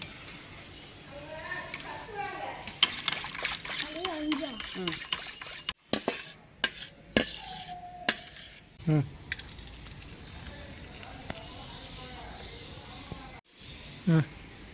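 Rapid clinking and scraping of a utensil beating four eggs by hand in a bowl for a fruit cake, steady and close, with short pauses, and a person speaking intermittently over the kitchen clatter.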